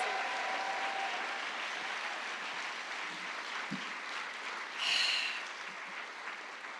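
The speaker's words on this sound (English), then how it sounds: "one more round of applause for all of our fantastic finalists" Audience at a book awards event applauding the finalists: sustained broadband clapping from a crowd, fairly distant and moderate in level, with a brief louder swell near the end.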